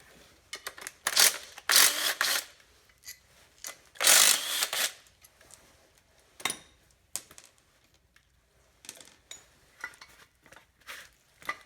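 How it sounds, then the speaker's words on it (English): Tools clank and click while 13 mm bolts are loosened on a Ford F-150 brake caliper, giving sharp metallic knocks and ratcheting bursts in irregular clusters with quiet gaps, close by and with no talk. "take loose the two 13 millimeter bolts holding this onto"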